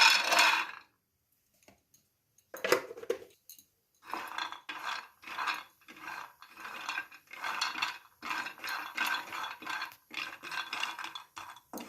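Peanuts are lightly roasted in a pan, giving dry, faint rattles and scrapes in short repeated bursts as they are stirred, with brief silences between the strokes.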